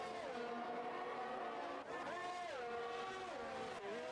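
Race cars come around the last corner of the Qatar circuit, their high-revving engines wailing continuously with pitch dipping and rising through gear changes, loud and sustained with no talk.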